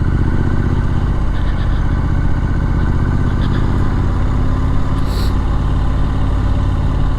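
A Triumph Street Scrambler Sandstorm motorcycle engine runs at a steady, loud idle on a muddy village lane on a sunny winter day, a continuous low throb that holds unchanged throughout.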